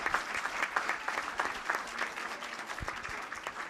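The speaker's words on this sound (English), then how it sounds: "Clap it up for Caden." Audience members at a school board of education meeting clap for an honored student, a moderately faint round of applause with distinct individual claps in an uneven, lively rhythm.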